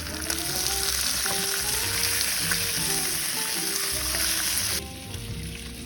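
Bacon frying in a pan in a Southern home kitchen, a loud dense sizzle with crackles and occasional stirring scrapes, close up and unbroken before it suddenly drops quieter near the end.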